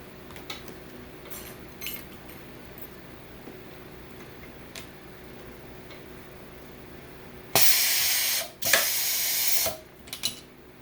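An automatic grommet machine sets grommets in 9-ounce PVC fence mesh, giving quiet ticking and clicking followed by two loud, harsh pneumatic bursts near the end.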